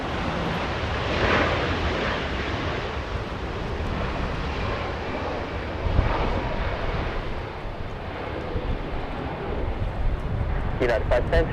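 An Emirates airliner departing Los Angeles International Airport, its jet roar a broad, sustained rumble that swells and fades at a distance, with wind buffeting the microphone and a person talking over it.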